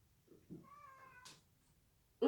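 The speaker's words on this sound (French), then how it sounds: "il y a le chat qui miaule" A cat meows once indoors, a faint, drawn-out tonal cry, with soft rustling before it and a sharp, close knock or clatter at the very end.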